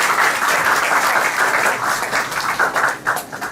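Steady, dense applause from an audience fills the room throughout, cheering participants of a college anti-ragging cell slogan writing competition; the clapping stays loud and even, with no talk over it.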